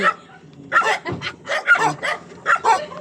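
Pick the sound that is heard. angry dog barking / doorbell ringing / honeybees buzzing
angry dog barking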